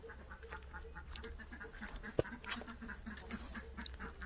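Ducks on a rural Thai farm, with scattered quacks and bird calls over a steady low background rumble and a sharp click partway through.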